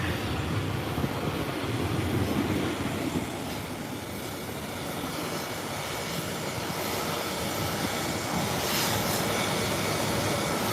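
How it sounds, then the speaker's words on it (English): British Airways Boeing 777 landing, heard as a steady, loud broadband engine roar that holds at constant strength throughout and swells slightly near the end. "we're awaiting the arrival of the British Airways 777"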